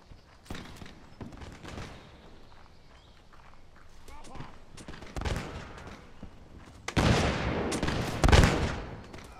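Cannon shot and musket gunfire in the Napoleonic-era Mount & Blade game: a series of sharp bursts and cracks, with the loudest blasts late in the stretch, over continuous battle noise.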